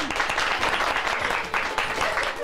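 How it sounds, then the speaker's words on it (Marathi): A studio audience on a Marathi TV quiz show claps after a correct answer, a close, busy burst of applause with some voices mixed underneath. "टाळ्या"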